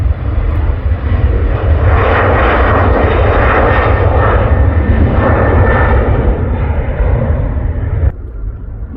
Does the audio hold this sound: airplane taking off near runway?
yes